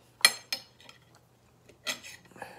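Metal cutlery clinks and scrapes against a plate while cutting cooked food from an AirFryer XL Pro Vortex 10-quart air fryer, a few sharp close taps separated by quiet pauses.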